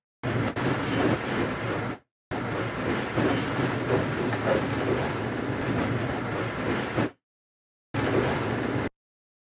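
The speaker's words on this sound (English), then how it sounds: "You can reverse the sound as well." A dense, rumbling wash of reversed sound from UVI Falcon plays in long blocks separated by abrupt silences, with a smeared, backward feel.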